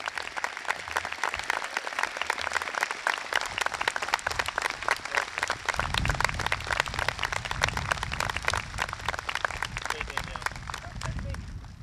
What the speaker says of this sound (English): Everyone, please join me in another round of applause for them.